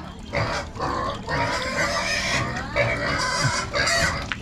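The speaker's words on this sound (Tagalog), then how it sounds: "Nagpakain siya ng baboy." Piglet grunting and squealing while being fed, with several close, loud bursts of snorts and squeals in quick succession and no pauses; chickens can be heard clucking in the background.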